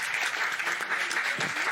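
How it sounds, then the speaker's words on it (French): Audience applause greeting Mado la Niçoise at a live comedy show, a dense, steady wash of many hands clapping close and loud throughout, with a faint voice underneath. "Applaudissements pour elle."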